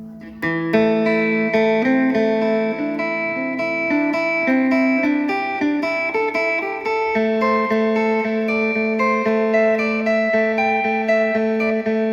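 An amplified electric phin, a Thai plucked lute, plays a flowing melody of bright, twangy notes over a sustained droning string, loud and close with no talking.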